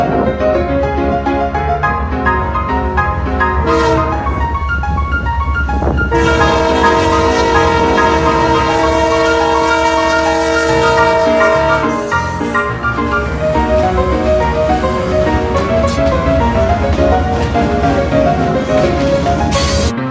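A locomotive approaches an unprotected or malfunctioning railroad crossing, its horn sounding loud and near in long sustained blasts over the continuous rumble and clatter of the rolling train.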